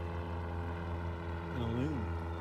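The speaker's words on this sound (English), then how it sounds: "Seaplane taking off." A seaplane taking off makes a steady droning engine hum with strong harmonics that swells and bends in pitch toward the end, heard at a moderate distance on its own.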